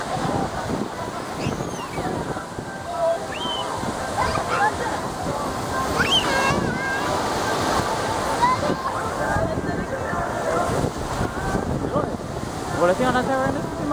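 Ocean surf rolls steadily at Widara Payu beach under gusty wind buffeting the microphone, while people talk nearby over the wash of the waves.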